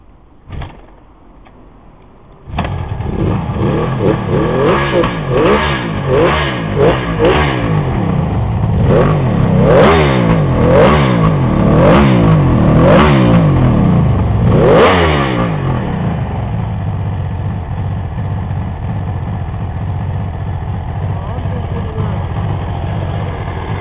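A Kawasaki 750SS Mach (H2A) two-stroke triple motorcycle kicks to life and runs loud and close, with a burst of sharp throttle blips and revs before settling into a steady, buzzing idle.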